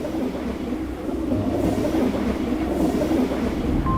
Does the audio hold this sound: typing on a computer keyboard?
no